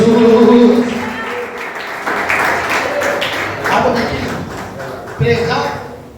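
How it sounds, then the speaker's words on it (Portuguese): A church congregation breaks into applause, a dense wash of clapping that swells and continues under a preacher's loud, excited speaking. "Aplauda bem forte, Jesus."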